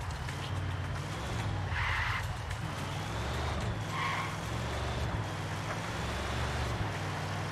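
A car in Ghost Recon Wildlands drives with a constant engine drone while tires squeal and skid in two clear bursts, the whole sound close and loud with no speech.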